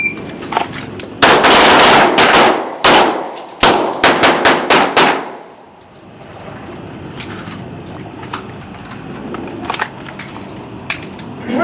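Several sharp handgun shots crack out in quick bursts on a combat handgun course, fired from the holster, loud and close with echoes, then the range falls quiet apart from faint background noise.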